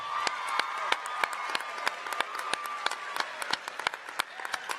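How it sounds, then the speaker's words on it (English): An audience in a school gathering gives a round of applause for Alex, with dense, sharp hand claps heard fairly close and steady throughout and faint cheering mixed in. "Let's give Alex a round of applause."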